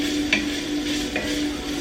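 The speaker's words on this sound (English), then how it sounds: "So I'm just going to saute some onion and garlic a little bit." Onion and garlic sizzle steadily in a hot pan, with a couple of soft stirring scrapes over the close, continuous frying hiss.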